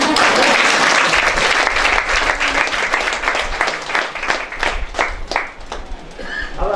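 An audience at a church gathering breaks into loud, sustained applause that thins out toward the end, with some faint voices beneath it.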